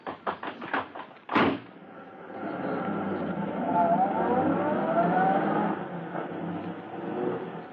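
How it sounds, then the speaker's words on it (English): An old-time radio drama effect of a fast getaway car at night: a quick run of clicks and a sharp slam, then a sustained engine roar that swells, holds and fades slightly. "as Polecat and Scrubby in their fast car escape from the scene,"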